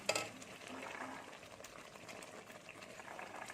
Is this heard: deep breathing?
no